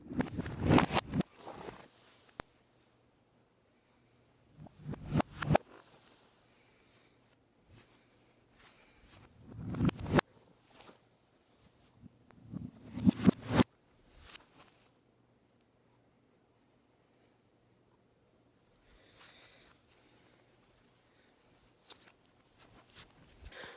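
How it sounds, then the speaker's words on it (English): Several bursts of scuffing, thumping shoe noises separated by near silence, with a faint low hum underneath; the impacts swell rather than snap, sounding backwards. "The sound you hear is the actual reverse sound of the shoes hitting the floor."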